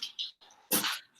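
A dog lets out a single sharp bark at a cat, close and loud, with fainter whimpering or shuffling sounds just before it.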